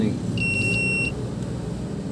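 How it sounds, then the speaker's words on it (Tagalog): A multimeter's buzzer gives one steady, high beep lasting under a second during a diode test on an integrated amplifier bench, heard over a low background hum. "itong buzzer natin ay pang test din ng diode"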